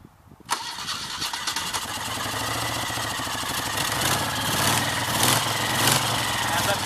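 A carbureted Moto Guzzi Le Mans motorcycle with the choke on cranks and fires into a loud, steady idle with a throbbing rhythm that continues to the end, with a voice talking faintly underneath.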